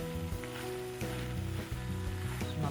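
Curry leaves and green chillies sizzle and crackle loudly in a hot pan of oil, a steady frying hiss with bursts of spitting and a few stirring knocks, close and continuous with no talking.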